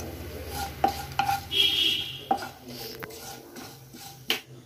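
A pinch of asafoetida roasting in a pan of beetroot chutney, with a soft sizzle beneath a few sharp spoon clinks and scrapes against the pan, close and intermittent.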